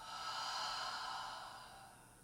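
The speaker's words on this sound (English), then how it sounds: "Nice long exhale through the mouth." A long exhale through the mouth during a guided breathing exercise: a single soft, breathy rush of air that swells quickly and then slowly fades away.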